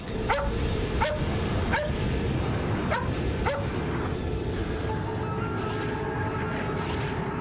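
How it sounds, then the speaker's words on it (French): A dog barks five times in a steady rhythm over a loud, constant rumbling background, then falls quiet while the drone continues. "quand son chien se met à aboyer"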